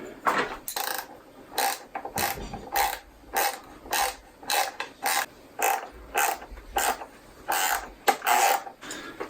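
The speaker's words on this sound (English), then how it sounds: "we have some locking nuts for the rear. Now it's time to tighten these down." A ratchet wrench clicks in repeated bursts while locking nuts are tightened on the windscreen mount of a BMW F750GS/F850GS motorcycle, loud and close with short pauses between strokes, and no talk.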